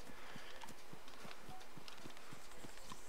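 In the video game DayZ Standalone, a cow runs while chased by zombies, a steady rhythmic patter of hoofbeats under a constant windy outdoor hiss, fairly faint.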